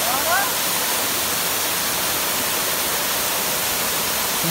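Ambanoli waterfall in Kodakara, Thrissur, pours in a dense continuous roar of falling water, loud and close, with a brief faint voice at the start.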